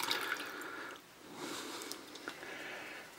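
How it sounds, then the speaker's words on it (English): Water pours into an instant spicy seafood rice soup cup up to the fill line, a close, steady trickling splash that pauses briefly and resumes, with no one talking. "And then we will add our water."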